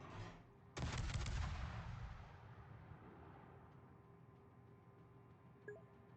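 Ship guns firing in World of Warships: after a brief opening rumble, one loud, close heavy salvo erupts, then rolls off into a long fading boom with faint background game noise.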